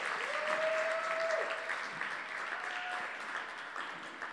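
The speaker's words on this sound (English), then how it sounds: "an applause" Steady crowd applause from an audience at a community storytelling event, dense and continuous throughout, with a faint tonal whistle or feedback line passing briefly near the start and again later.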